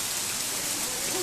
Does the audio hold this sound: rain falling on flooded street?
yes